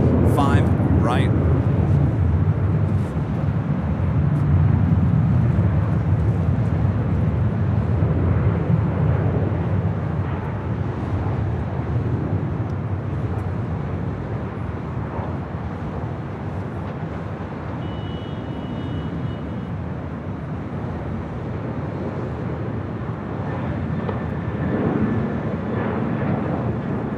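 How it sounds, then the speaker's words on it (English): A United 787-9 Dreamliner bound for London, number two for departure on runway 25 right at LAX, sends out a steady broad jet roar that holds for nearly half a minute, with faint voices or radio chatter underneath. "It's a 787-9 Dreamliner, number 2 for departure on the south side on 25 right."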